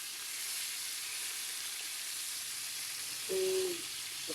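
Tilapia fries in oil in a non-stick pan with a steady, faint, even sizzle and hiss throughout, and a short tonal hum rises briefly near the end.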